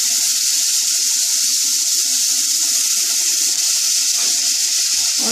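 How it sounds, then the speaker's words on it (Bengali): A little water poured into chana masala spices frying on low gas for kabuli chana ghugni, producing a loud, constant close sizzle and hiss that runs unbroken through the whole clip. "সামান্য একটু জল দিলাম, গ্যাসটা একদম কমিয়ে দিয়েছি"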